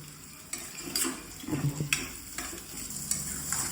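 A spoon stirs fresh green turmeric curry with chopped green garlic in a sizzling pan, giving several distinct scraping strokes over a steady frying hiss, close and fairly quiet, with no talking.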